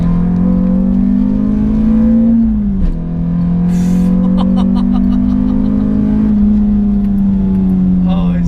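A 2005 Renault Clio 182 on a race track, its engine holding a loud, steady drone that dips briefly as the car shifts or brakes before building again, with someone talking over it.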